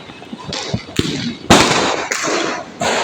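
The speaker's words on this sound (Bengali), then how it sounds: "এইদিকে খুব সুন্দর সুন্দর বাজি পুড়ছে" Firecrackers burst nearby in quick succession: several loud, sharp bangs, each trailing into a crackling hiss, spaced roughly half a second apart.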